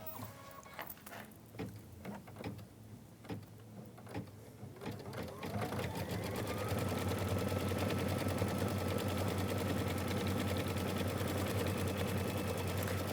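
A sewing machine stitches out quilt blocks, starting with a few spaced thumps and short bursts, then settling into a loud, continuous rapid whirring run of stitches.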